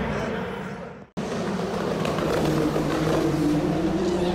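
Indy race cars at the Firestone Grand Prix of St. Petersburg, a street race through the city, droning steadily in the distance as a continuous engine wash with wind and outdoor noise, briefly cut near the start.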